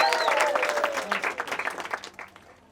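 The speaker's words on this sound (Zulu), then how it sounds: "Bathi yebo bashayeleni ihlombe." Applause from guests at a traditional wedding ceremony, a dense burst of many hands clapping that gradually thins and fades over a few seconds, with a faint voice briefly audible underneath.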